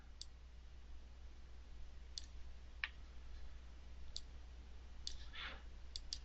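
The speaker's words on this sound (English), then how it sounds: "Double click to open that." A computer mouse clicks several times at uneven intervals, including a double click to open a file in image-editing software, each tap sharp, close and faint against a low steady hum, with no speech.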